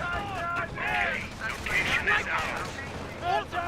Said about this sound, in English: Rifleman inside that garrison, firing away with its bars, or receiving bar fire in return.